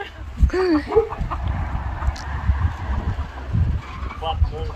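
Chickens cluck and squawk nearby in short bursts, with a crowing call and some people talking in the background.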